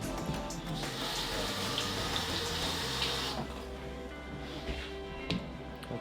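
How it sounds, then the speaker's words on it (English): Tap water runs steadily into a kitchen sink while bell peppers are washed for fajitas, a continuous close hiss that eases off partway through and leaves a quieter low rumble. "But first, you've got to wash the peppers."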